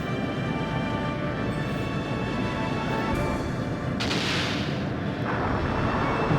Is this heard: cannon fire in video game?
yes